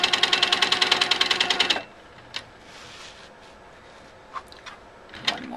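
A sewing machine stitches the side of a quilt triangle in a fast, even run of needle strokes for under two seconds, then stops, leaving a few faint clicks and handling noises.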